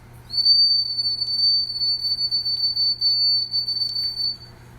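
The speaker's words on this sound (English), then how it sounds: "This is a whistle from Peru." A single shrill, very high-pitched Peruvian whistle holds one steady tone for about four seconds, loud and close, with slight fluttering breaks.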